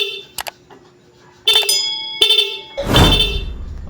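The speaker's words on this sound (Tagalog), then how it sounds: "Isang pindot mo lang tapos tad-tad na ng busina 'yon." Motorcycle horn wired through an interrupter relay, sounding in short bursts and then in a rapid chattering run of honks, with loud blaring tones near the microphone and a rough burst at the end.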